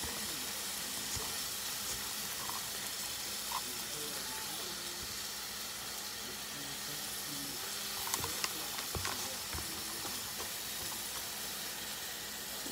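Butter sizzling in a pan at home with milk, a steady soft hiss and crackle running throughout at low level, with a few faint clinks of utensils near the end.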